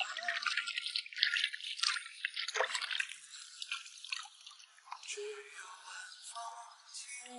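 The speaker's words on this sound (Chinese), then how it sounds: "先把黄瓜洗一下。" Fresh cucumbers being washed by hand in water, giving steady close splashing, dripping and sloshing that runs the whole time at a moderate level, with no talk over it.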